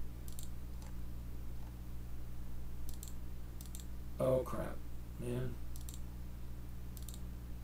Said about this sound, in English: Too quick on my clicking there.